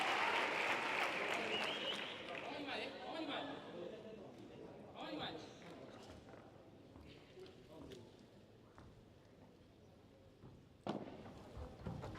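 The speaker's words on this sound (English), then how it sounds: "Listen to that crowd." Crowd at a padel tournament final in Sanlúcar applauds and cheers after a long point, loud at first then fading, with a commentator talking over it and a sharp hit near the end.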